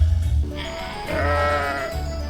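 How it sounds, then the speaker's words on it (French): Cartoon sheep bleating loudly and clearly, one drawn-out wavering bleat alone with no talk over it. "tu es le plus joli mouton que je n'ai jamais vu"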